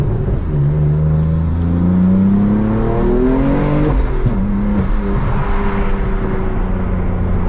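BMW M3 with a manual gearbox accelerating hard, its engine note climbing in pitch, then a brief dip at a gear change and another rise, loud and close throughout.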